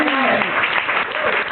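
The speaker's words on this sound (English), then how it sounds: "let's give a big round of applause for our brave Captain Lily and her wildlife protector, John." Sustained crowd applause with cheering voices on the Studio Backlot Tour at Disney's Hollywood Studios, loud and continuous throughout.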